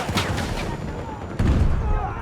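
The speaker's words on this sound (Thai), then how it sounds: "อุ้ยโหระเบิด" A sudden loud blast erupts partway through a Battlefield 2042 match, followed by sustained rumbling and crackling gunfire-like noise.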